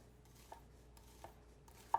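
An onion is sliced with a nakiri knife on a cutting board, giving a few quiet, separate knife taps spaced irregularly against faint room noise and ending on a slightly firmer chop.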